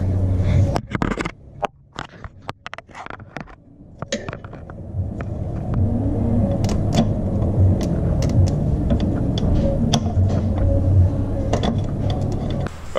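A Toyota KE70 that won't crank after its starter is bridged: mechanical clicks, scrapes and clunks from the engine bay, followed by a steady low rumble, with no cranking heard.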